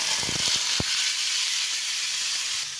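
Hot cooking oil hisses steadily in a pan before chicken goes in for a chicken menudo with potatoes and carrots. The sizzle is loud and continuous, with a few faint pops near the start and no voices.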